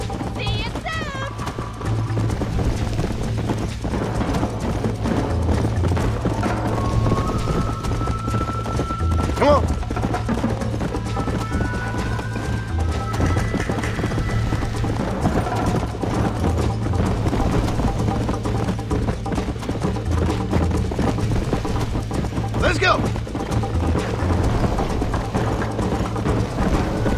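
Horse hooves clip-clopping at a gallop in the Red Dead Redemption video game, a steady rhythmic beat under game music and sound effects, with a voice talking over it in places.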